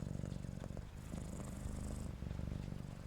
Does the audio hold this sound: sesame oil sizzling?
no